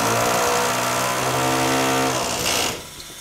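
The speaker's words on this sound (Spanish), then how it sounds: "primero lo que vamos a hacer es taladrar, ¿vale? Vamos a taladrar." An electric drill bores into a wall during a bedroom renovation, whining steadily at a constant pitch for over two seconds before cutting off, close and loud with no talk.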